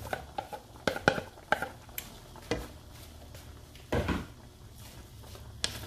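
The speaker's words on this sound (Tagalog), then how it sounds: "Haluin natin ng gusto, then takpan." Jackfruit and pork being stirred in a cooking pot, a spoon knocking and scraping against the metal in quick, irregular clinks, close and fairly quiet, with a louder scrape near the end.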